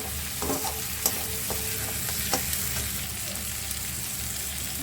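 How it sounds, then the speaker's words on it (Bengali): Chopped tomato frying in a pan for chicken kosha, a steady close sizzle with a few sharp clinks and scrapes of a utensil against the pan, no voices. "এই টমেটো কুচিটাকে আমি একটু ভালো করে একটু ভেজে নেব যাতে নরম হয়ে যায়।"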